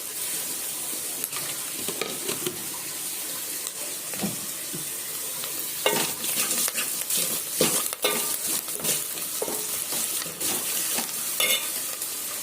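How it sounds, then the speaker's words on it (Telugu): Cumin and spices tempering in hot oil for a tamarind rasam, a steady soft sizzle with scattered crackles and pops, near and alone, with occasional stirring scrapes. "నేను తాలింపు దినుసులు వేయనండి, జీలకర్ర వేస్తా."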